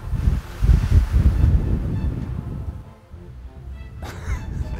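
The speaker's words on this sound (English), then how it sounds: "The wind is like a hurricane out here right now." Strong, gusty wind blows outdoors around a small hunting blind during a mule deer archery hunt, buffeting the microphone with deep rumbling surges that rise and fall, loud and close, easing briefly near the end.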